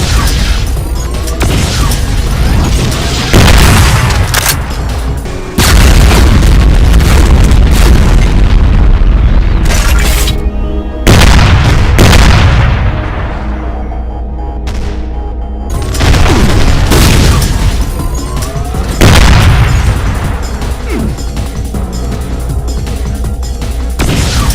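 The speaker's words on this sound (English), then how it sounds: "a pyro cannon attack," Repeated heavy explosions from a pyro cannon attack in a Doom mod amid Cyberdemons, loud booming blasts in quick succession with rumbling decay and brief gaps, dense and continuous over the whole stretch.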